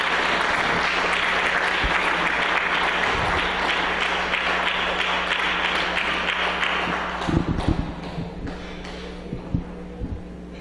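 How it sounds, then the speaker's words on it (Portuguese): Loud, sustained applause from a church congregation welcoming Brother José, a steady wash of clapping for about seven seconds that thins into a few scattered claps and thumps as it dies away. "un cariñoso aplauso para nuestro hermano José"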